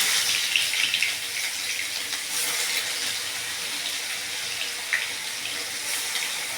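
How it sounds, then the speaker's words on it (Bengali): Green chilli, onion and garlic paste fries in hot oil with a steady bright hiss and crackle. The sizzle holds at an even level throughout, close and unbroken, with a few small pops and no voices. "এখানে আমি বেটে রেখেছি কাঁচা লঙ্কা, পেঁয়াজ, রসুন। এগুলো এখন আমি কষিয়ে নেব ভেজে।"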